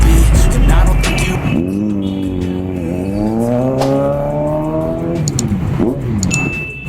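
Kawasaki Z900 motorcycle exhaust during a group ride, rising and falling revs with a strong throaty drone, close and loud with some wind and traffic noise around it.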